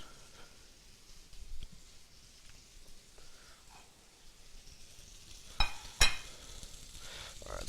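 A steak's fat cap sears in a hot pan with a soft, steady sizzle, broken by a few louder crackling bursts and spatters toward the end, close and otherwise without talk.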